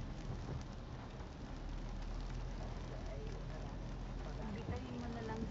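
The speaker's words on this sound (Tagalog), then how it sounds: "Ulan." Steady rain falls during a drive in a Ford Ranger between San Pablo and Biñan in Batangas, a dense continuous hiss with faint low rumbles that could be distant thunder, while voices talk quietly over it.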